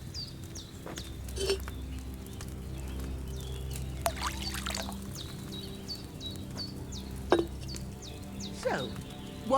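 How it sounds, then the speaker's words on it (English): Wine splashes and pours into a cauldron in the video game Kingdom Come Deliverance II, a soft liquid flow over a low ambient hum with scattered bird chirps and a few brief knocks. "Don't worry, I poured wine in there."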